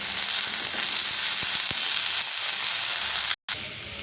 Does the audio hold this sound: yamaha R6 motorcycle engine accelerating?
no